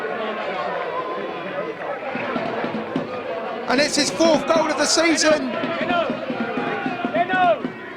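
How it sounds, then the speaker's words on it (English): Crowd at a Merstham v Sevenoaks Town football match cheering behind the goal after the skipper's headed goal, a raised roar swelling midway and staying loud under a commentator's continuous voice. "The crowd going crazy behind the goal."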